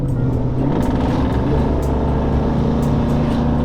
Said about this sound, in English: That exhaust sounds hideous. Sounds like an old 70s pickup.